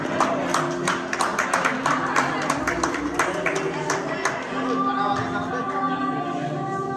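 Crowd clapping at a lamp-lighting ceremony during a 2003 class-ten alumni reunion, a dense stretch of sharp hand claps over the first four seconds that gives way to steadier background murmur, with voices throughout.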